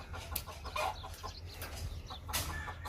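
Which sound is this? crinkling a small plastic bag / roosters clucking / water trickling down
roosters clucking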